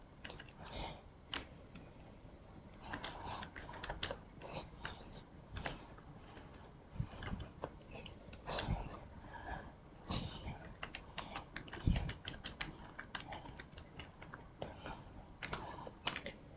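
A computer keyboard clatters steadily while someone types a printf statement in C, the keys landing close and quick in a continuous run with a few louder taps.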